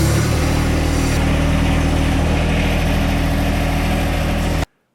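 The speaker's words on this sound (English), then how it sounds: "Okay, I got the tractor fired up." A John Deere tractor engine idles steadily and loudly nearby, a dense continuous rumble that runs unchanged for several seconds before cutting off abruptly.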